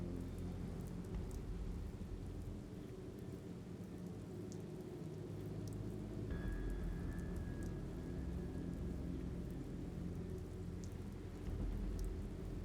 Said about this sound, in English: Awesome. It's raining again.